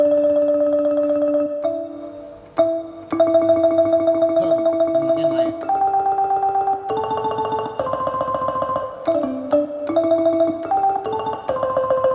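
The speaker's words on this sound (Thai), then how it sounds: "เสียงระนาด ระนาดมันจะเป็นคู่แปดครับ" A sampled Thai ranat xylophone plays in octaves on a Yamaha PSR-SX keyboard, with bright struck notes in a steady melodic run, clear and alone.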